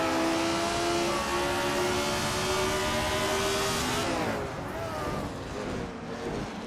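Race cars engines revving together at the start of a racing game, led by a classic 1964 Ferrari 158 on pole at Lakeside Park, a loud, steady droning whine that rises and then dips as the pack pulls away.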